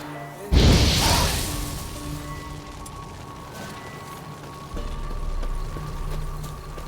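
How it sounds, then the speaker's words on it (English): Igni fire sign cast in The Witcher 3, a single loud whooshing roar of flame that flares up suddenly and fades over about a second and a half, leaving quieter game ambience with low rumbling afterwards. "Now for a shot of Igni."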